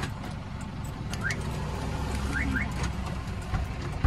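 A car alarm sounds along a roadside with a view of Mt. Banahaw at sunset, giving short rising chirps under a steady rumble of traffic or engine noise, at moderate distance and fairly quiet.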